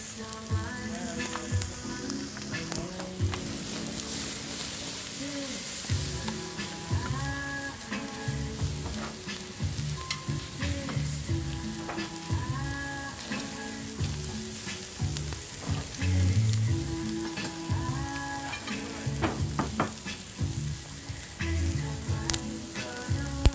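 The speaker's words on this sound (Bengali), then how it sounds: "কিং প্রন গলদা চিংড়ি এখন গ্রিল হচ্ছে এখানে" King prawns grilling on a poolside barbecue at a resort, a steady close sizzle and spit of frying with clinks and stirring, no talk.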